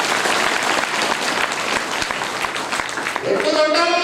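A crowd gathered for a Swamiji's spiritual speech in Basavan Bagewadi claps together in a loud, sustained burst, and a voice rises over it at the end.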